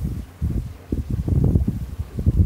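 A gust of wind buffets a Catalina 27 sailboat under sail, heard as a low, rumbling wind roar against the microphone that swells and fluctuates throughout, with no talk.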